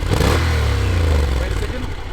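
A Honda NC750X motorcycle on its stock exhaust revs hard near the rev limiter, a loud close engine holding a high drone before easing off, with wind buffeting throughout.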